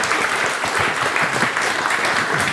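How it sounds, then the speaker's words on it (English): Audience applause after a stage play performance, steady dense clapping throughout with a faint voice or two underneath. "Please, another round of applause."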